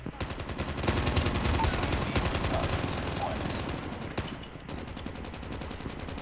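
Rapid, rattling machine gun fire in the Call of Duty Mobile video game, a dense, continuous stream of shots, loud and near throughout, with mixed in-game effects.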